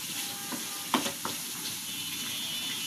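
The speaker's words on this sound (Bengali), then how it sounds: "মাংসটা এখনো কষাইতেছি" Meat sautéing in a pan for a home-cooked dish, a steady close sizzle with a few brief clinks of a utensil stirring near the start.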